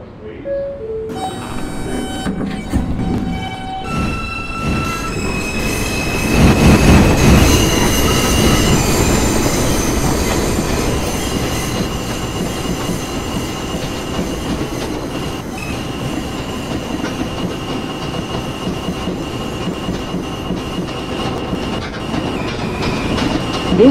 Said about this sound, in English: This is a Queensbound M local train.